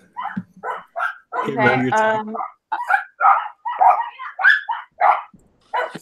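A dog-bark sound effect plays during a tabletop Dungeons & Dragons session, several sharp barks and yips in quick succession mixed with people talking over them.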